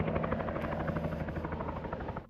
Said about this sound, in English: Today we saw the plane being airlifted out by a helicopter.